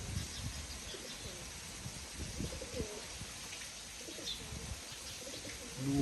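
A racing pigeon coos softly in a loft setting, low repeated throaty calls over a steady background hiss, with a few faint chirps from other birds.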